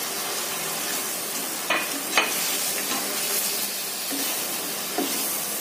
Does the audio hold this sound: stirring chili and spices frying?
yes